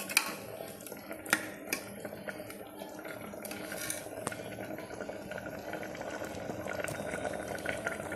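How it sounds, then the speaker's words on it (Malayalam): Thick curry with ground coconut bubbling and popping steadily in a pot, close up, with occasional sharper bursts early on. "ഇവിടെ കറി അങ്ങനെ തിളച്ച് ഇതേപോലെ ഇരിക്കും"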